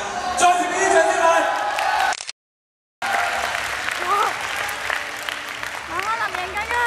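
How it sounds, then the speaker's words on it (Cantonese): A hall audience at a secondary school singing contest claps loudly for a contestant, with cheers and whoops rising through the dense applause. The sound breaks off briefly, then returns with excited shouting voices mixed into the clapping. "再次俾啲掌聲佢"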